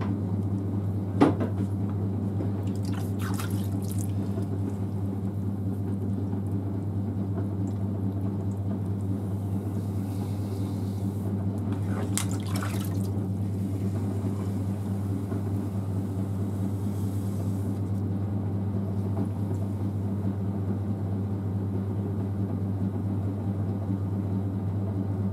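A potter's wheel throwing soup bowls hums in a low, steady drone as it spins, with a single knock near the start and a few faint brushing rubs over it.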